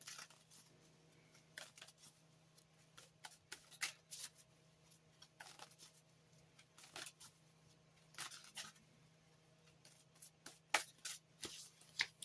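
Druidcraft Tarot cards are shuffled by hand in repeated short riffles and slides, each burst close and crisp, separated by brief quiet gaps against a low steady hum.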